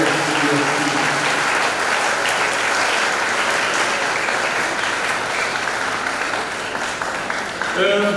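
Sustained, dense applause from a parish congregation thanking choir members at a Saint Michael the Archangel feast-day celebration, steady and loud throughout with voices audible underneath near the start and end.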